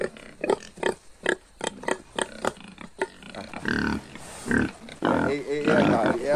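Pigs at a farm grunt and snort in short, uneven bursts close by, and a few louder squeals and drawn-out calls follow toward the end.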